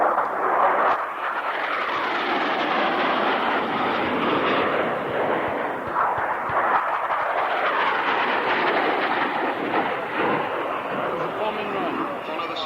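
Military jets roar overhead at the Fairford International Air Tattoo airshow, a loud, sustained broadband rumble that swells and shifts as they pass, with no breaks across the whole stretch.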